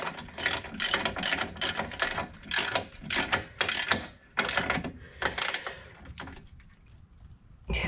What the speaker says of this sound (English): I don't know if I'll be able to get the torque wrench in there.